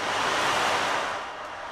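Ocean waves in the Gulf of Mexico make a steady, loud broadband wash of surf that holds for a moment, then eases slightly, with no voices.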